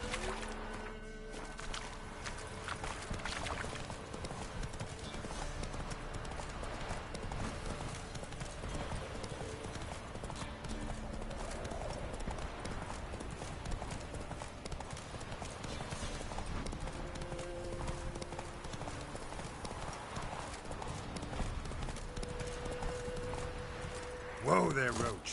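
Roach, a horse in the video game The Witcher 3, trots with steady rhythmic clip-clopping hooves across the whole stretch, joined by a brief whinny and a voice calling to the horse.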